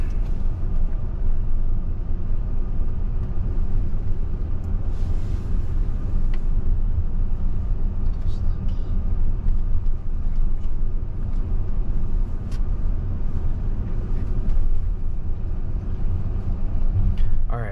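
A Tesla running FSD Beta cruises along a busy road, heard from inside the cabin as a constant low rumble of road and tyre noise with occasional faint clicks.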